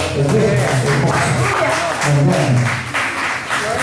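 A church congregation claps in praise during a Spanish-language sermon, a dense, steady burst of applause lasting a few seconds with voices calling out over it.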